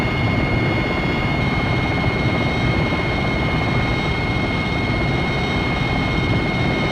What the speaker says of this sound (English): Flying around the other helicopters.